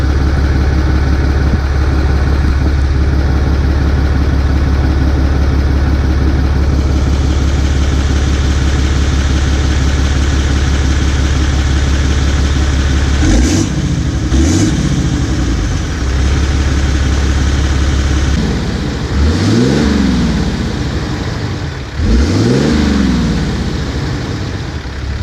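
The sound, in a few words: Cummins diesel truck exhaust idling and revving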